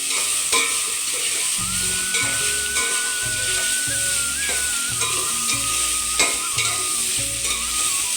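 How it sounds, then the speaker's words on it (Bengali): Carrots, green chilies, raisins and cashews fry together in hot oil with a loud, steady sizzle. Stirring adds repeated scraping strokes close up, and there is no talk. "আমি সব কিছু একসাথে ভেজে তেলের মধ্যে সামান্য ভেজে নিই"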